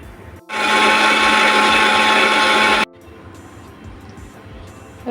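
A kitchen mixer grinder whirs loudly and steadily as it grinds coconut for Malvani-style dahi kadhi, starting abruptly and running for about two seconds before cutting off, followed by quiet kitchen background.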